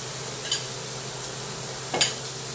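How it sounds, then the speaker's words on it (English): Butter drips onto beef tenderloin steaks searing in a hot pan, giving a steady low sizzle with a couple of brief sharper spatters, close and fairly quiet, with no talking. "I'm going to take a little butter, drip it on the steaks"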